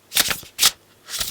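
Tarot cards being shuffled by hand, three quick riffling bursts with short pauses between, close and crisp with no voices.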